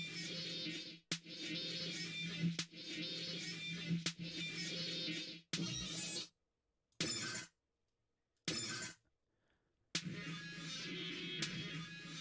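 A snare drum run through a convolution effect turns into loud, harsh, glassy crashing textures that sustain, then cut off abruptly, with gaps of silence between bursts.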